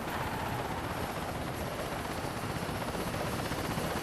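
A helicopter in a video game set in New York City: a continuous, loud rotor drone with broad rumbling texture, holding steady and close for the whole stretch with no talking.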